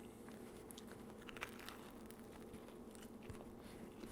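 Biting into a crispy homemade Detroit-style pizza gives a few close crackly crunches over a steady low background hum, with no talking.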